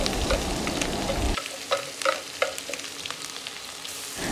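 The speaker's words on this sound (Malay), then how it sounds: "Okey, kita ready lah pula untuk kita tumis" Aromatics sautéed in reused oil in a wok for Singapore-style fried rice vermicelli, a loud hiss of frying under sharp scraping stir strokes, dropping to a quieter sizzle with repeated spatula clinks partway through.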